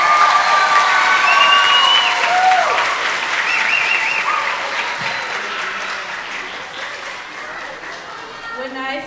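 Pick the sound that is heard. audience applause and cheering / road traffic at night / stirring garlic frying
audience applause and cheering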